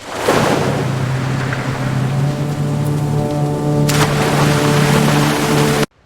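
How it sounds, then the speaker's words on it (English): Wind blows hard outdoors at an evening fishing spot, a loud steady rush buffeting close to the microphone with a low droning hum beneath, ending abruptly. "the wind's really picked up since I've been fishing"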